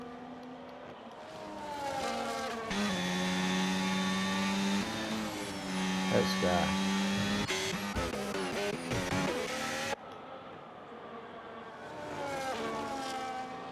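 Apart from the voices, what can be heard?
race car engine at high RPM in a racing video game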